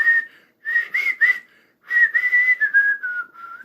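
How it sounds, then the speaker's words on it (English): Clear melodic whistling of the slow British national anthem, in three phrases separated by short pauses, close and fairly loud, with no talking. "someone else walks in, also whistling the British national anthem"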